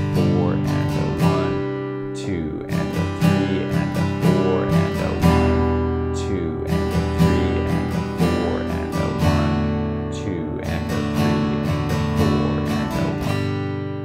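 An acoustic-sounding guitar strums a steady 16th-note pattern with quick down-up strokes and the "and a" subdivisions filled in, ringing loud and close with no talking.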